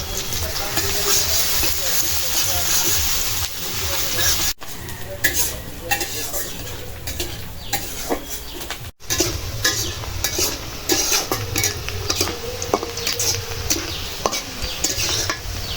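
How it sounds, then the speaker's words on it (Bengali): Onions fry in oil with a bay leaf while a spoon stirs and scrapes the pan, producing loud, continuous close sizzling with clinks and scraping. Two brief dropouts interrupt it. "পেঁয়াজটা প্রায় ভাজা হয়ে গেছে"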